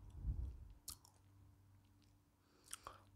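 An Uslada cookie with milk is bitten and chewed close to the mic, a soft crunch followed by a few sharp crisp snaps and quiet chewing in between.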